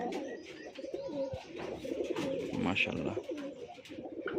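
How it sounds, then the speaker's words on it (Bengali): Rajshahi Giribaj pigeons, mostly colour-matched birds including a deep red pair, coo continuously in a close, dense chorus, with a brief higher chirp; someone speaks briefly over them. "বেশিরভাগ কালার ম্যাচিং কবুতর সব"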